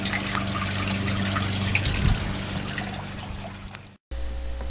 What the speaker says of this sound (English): as I put the camera down here in the water